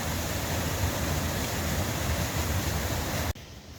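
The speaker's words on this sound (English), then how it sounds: "The noise of the waterfall is getting less and less." Waterfall in the Wood of Cree, a steady, loud, full broadband roar of rushing water that stays constant up close and then abruptly drops to a quieter, distant hiss near the end.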